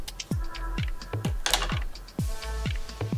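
Scissors snipping down the center of two stacked layers of fishnet tights, with a series of crisp, close, evenly spaced clicks that come one after another with short pauses between.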